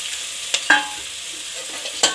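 Soaked soya chunks frying with browned onions in a pan, a steady soft sizzle with a few sharper stirring scrapes and clinks near the start and end, close and moderately loud with no talking.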